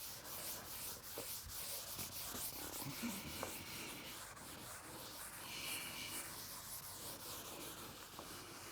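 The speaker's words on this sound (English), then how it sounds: "Now I can erase this part." Someone erases writing from a board during a physics lecture, making a soft, continuous rubbing and scuffing with irregular strokes, faint and close, with no talking over it.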